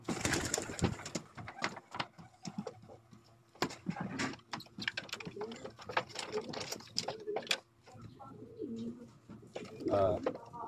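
Pigeons coo softly in a quiet space, mixed with scattered clicks, rustling and fluttering sounds from nearby birds.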